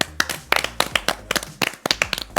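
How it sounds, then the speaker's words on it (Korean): A small group clapping hands indoors in several distinct, close bursts of sharp claps, loud and uneven, separated by short pauses, with no talk over them. "박수."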